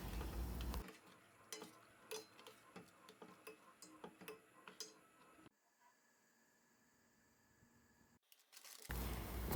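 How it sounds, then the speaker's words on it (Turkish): A spoon stirs a blackberry and sugar mixture in a pot on the stove, giving light, irregular scrapes and ticks against the pot, then a quieter stretch with faint background hum before a louder burst at the end. "Ara sıra karıştırarak da şekeri eritelim."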